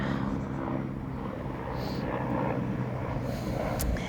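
A helicopter flying overhead above a forest, its broad rotor and engine roar steady and fairly loud throughout, with no voices over it.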